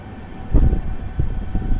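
The Sabari Express at platform 3 of Chirala railway station gives a rumbling, roaring rush with a louder swell midway, close and continuous.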